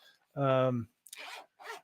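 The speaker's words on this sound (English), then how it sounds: "zip up case, such a nice case" A zipper is pulled along a zip-up case for a MacBook or iPhone charger, one loud, close, buzzy stroke, followed by brief speech.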